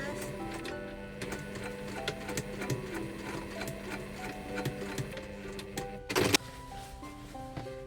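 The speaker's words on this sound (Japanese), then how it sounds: "ここミシン1センチのところを縫っていきます。" A sewing machine stitches a straight 1 cm seam in kimono fabric being remade into pants, a steady close motor hum with rapid needle ticking, a voice talking over it and a brief louder clunk near the end.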